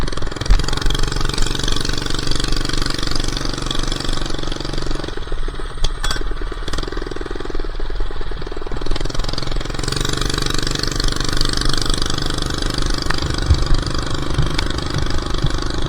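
An old minibike engine of about ten years, with a recently cleaned carburetor, runs steadily at close range, a loud continuous rattling buzz that dips briefly in the middle before picking back up.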